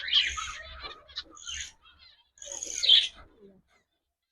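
Budgerigars, cockatiels and finches in a large home aviary colony, chirping and twittering close by in two bright bursts separated by a short quiet gap.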